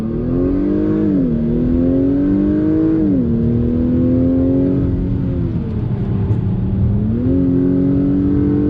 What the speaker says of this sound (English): Give it a little throttle, on throttle, here we go.